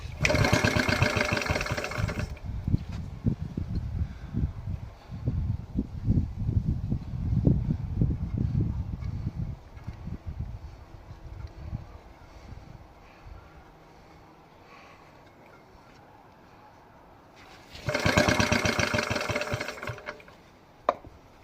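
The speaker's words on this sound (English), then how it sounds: "I don't want to give it too much fuel, I don't want to give it too many revs, because this is an old engine." A 1942 Petter A1 2HP stationary engine, old and leaking fuel at the carburettor, runs with a loose, rapid chugging thump, loud and close at first, then settling into a quieter idle before a brief louder burst near the end.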